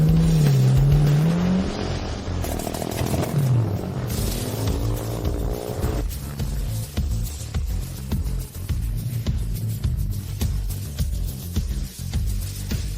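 A car engine approaches and grows louder, mixed in with a dramatic music score, then keeps a steady revving rumble through to the end.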